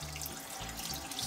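A pot is rinsed under a running tap, a short, soft, steady wash of water and splashing with no talk.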